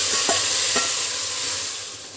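Marinated mutton sizzles loudly in hot oil with onions and is stirred, giving a couple of brief spoon scrapes over a steady, close frying hiss.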